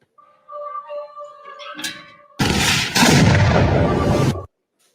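Submarine implosion sound effect: a low tonal hum and creaking build for two seconds before a sudden massive, roaring blast that sustains for about two seconds, then cuts to silence.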